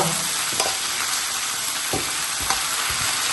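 Chopped spinach fries in hot oil with tomato for a palak chicken gravy, making a loud, dense sizzle close by as it is stirred, with a few scraping knocks from the spoon.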